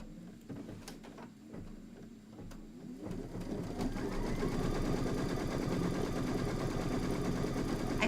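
A sewing machine stitching quilt fabric: a few handling taps first, then the motor starts and settles into a fast, steady, close mechanical rattle that continues to the end.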